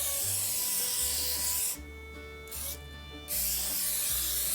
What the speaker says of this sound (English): spray this with nonstick cooking spray or oil it